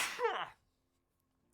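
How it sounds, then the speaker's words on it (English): A single loud sneeze close by, sharp and breathy, followed by silence. "Sneeze."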